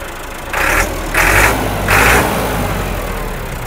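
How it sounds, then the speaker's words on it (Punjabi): A tractor engine started by remote control idles with a steady mid-pitched rumble, rising in three short revving surges before settling back to a constant idle. "ਟਰੈਕਟਰ ਰਿਮੋਟ ਤੇ ਸਟਾਰਟ ਰਿਮੋਟ ਤੇ ਬੰਦ ਹੋਏਗਾ।"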